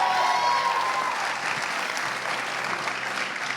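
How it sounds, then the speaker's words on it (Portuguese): A church congregation claps in sustained applause, a dense, loud wash of many hands that eases slightly but continues steadily, with a brief tone sounding at the start. "Você pode dar uma salva de palmas a Jesus por"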